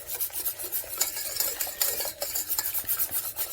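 Keto sauce whisked in a pan, with quick scraping and rasping strokes of a whisk in an uneven, brisk rhythm, close and clear with no voices.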